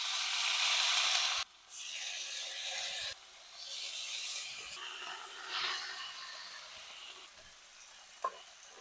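Bacon frying in a pan for a bacon-butter topping makes a steady crackling sizzle. It shifts in intensity and is broken by a few quick stirs and a small knock, close by with no talking.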